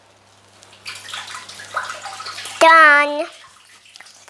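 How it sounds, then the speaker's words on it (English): Tap water runs briefly and loudly into a kitchen sink while a half teaspoon is rinsed during home cookie baking, a short steady gush after a few seconds of family chatter, then cutting off. "I'm gonna go and just rinse our half teaspoon"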